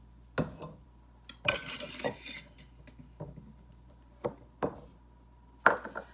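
Egg yolks, flour and sugar mixed together in a bowl for a rhubarb dessert, with scattered utensil clinks and scrapes against the bowl coming in short bursts with quiet gaps between them; no one speaks.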